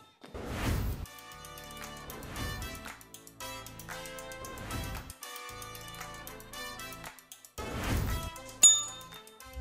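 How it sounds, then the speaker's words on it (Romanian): A small bell in a kitchen setting rings in several bright, clear dings that fade slowly, with a few rings spaced across the stretch and a sharp clink near the end. "bate tu un clopoțel ca să nu..."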